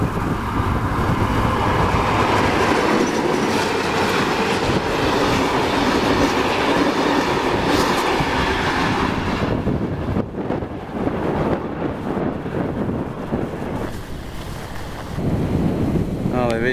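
Train passing a road crossing at Kingoonya in outback South Australia: a loud, continuous rumble with rolling wagon noise and heavy wind buffeting, which thins out toward the end.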